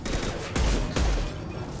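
Gunfire from mechs in the sci-fi shooter Mass Effect 2, two loud heavy bursts rising out of a dense, continuous battle din.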